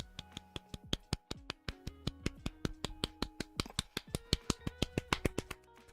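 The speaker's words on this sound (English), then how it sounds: "so I'm going to do a golf clap" A single person does a soft, slow golf clap, each crisp hand clap spaced evenly about a fifth of a second apart, close and quiet with no talking.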